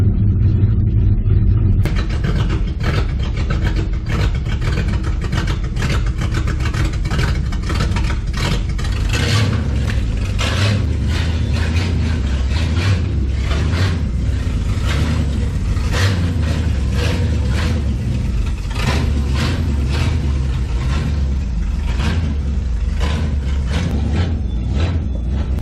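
An old carbureted engine cold-starts after a few throttle pumps, with a cranking whine giving way to a loud, steady close-up idle full of mechanical clatter and rhythmic ticking, no voices.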